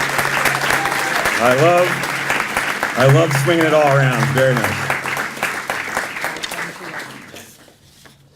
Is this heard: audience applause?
yes